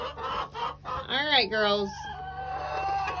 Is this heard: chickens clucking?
yes